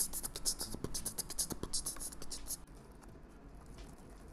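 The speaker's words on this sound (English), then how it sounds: "So let's do a typing test." On an Acer Aspire 5 laptop keyboard, quick light keystrokes patter close by in a busy irregular stream that thins out near the end.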